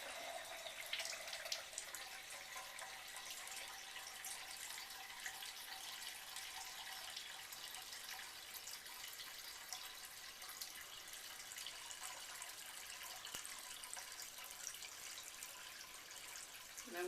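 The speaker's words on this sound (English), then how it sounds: "let it fill up to the 1 liter mark or thereabouts" Cold tap water runs steadily into a Kangen water machine container, filling it toward the 1 liter mark with a soft, even hiss and trickle that carries on unbroken.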